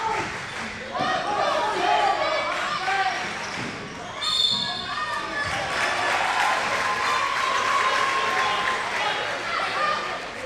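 Crowd noise fills a high school boys' basketball game between Creed and Old Saybrook, a steady loud roar of cheering and chatter with a brief burst of whistles or shouts midway and ball bounces beneath.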